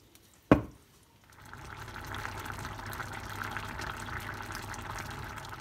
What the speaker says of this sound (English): that will simmer for 20 minutes until the liquid has turned to a nice sort of sauce